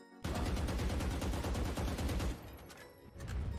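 Sustained automatic gunfire in the Valorant video game, fired through a thin corner of a wall. A dense, loud burst of rapid shots is followed by a brief lull, then more firing.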